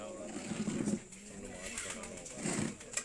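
Pigeons for sale coo in low, soft throaty bursts, two clear phrases near the start and end, with people talking faintly in the background.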